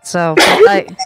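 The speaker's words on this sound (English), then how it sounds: "That was a pretty big sneeze there." A loud, close human sneeze during a Minecraft roleplay, one sharp explosive burst with a short breathy lead-in, followed by a brief spoken word.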